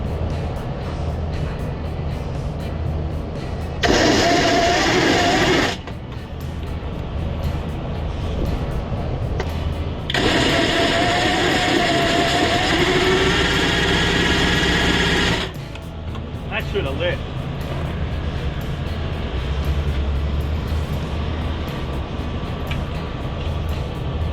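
Big bore two-stroke engines being started, with two loud bursts of rattling, buzzing engine noise, one short and one lasting several seconds, between quieter stretches of background noise and people talking.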